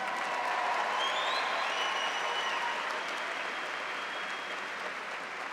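Steady applause from a commencement audience at the Adelphi University Class of 2022 ceremony fills the whole stretch as a dense, continuous patter, easing off slightly near the end.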